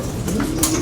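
A racing pigeon coos once, a short, close, low murmuring call over light background noise in a loft with young birds.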